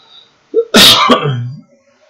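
A single loud, close human sneeze with a short inhaled build-up followed by a sharp explosive burst, in an otherwise quiet moment.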